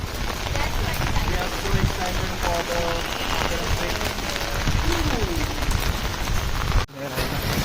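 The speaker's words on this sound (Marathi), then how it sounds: "मी इथे छत्रीत थांबलो पावसामध्ये" Heavy monsoon rain pours down near Matheran, drumming loudly on an umbrella and surrounding surfaces in a dense constant roar, with voices talking underneath and a brief sharp break near the end.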